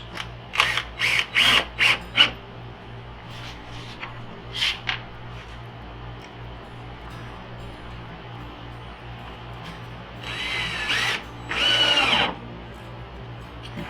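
A power drill drives screws into a wooden picture frame jig for a chop saw. Several quick, close whirring bursts come first, followed by a few more spaced runs and a longer buzzing drive near the end, over faint background hum.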